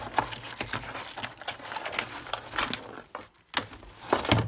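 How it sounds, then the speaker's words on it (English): Plastic wrapping crinkles and tears as it is pulled off a Rii RK400 keyboard, close-up rustling and crackling in irregular bursts with a brief pause, without talk. "Get that plastic off."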